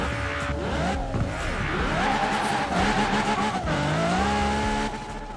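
A car launches from a standing start in the racing game Forza Horizon 4. The engine roars and climbs in pitch through repeated gear changes while tires squeal, loud and close.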